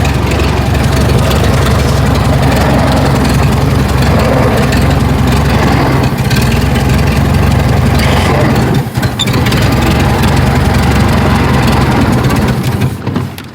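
A Ford Model T engine runs steadily after startup, loud and close, with a continuous low rumbling idle and faint voices mixed in.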